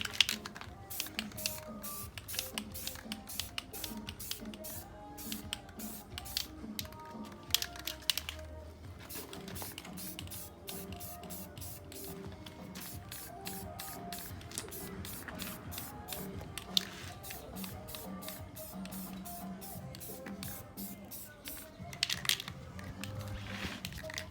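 Aerosol spray paint laid in gloss black on Infiniti Q50s 3.7 rims outdoors, with a long hissing spray broken by rapid clicking bursts of the nozzle, steady and close throughout.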